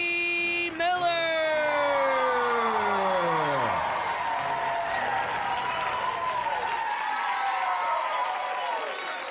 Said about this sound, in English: that cheer was accepted, and I'm grateful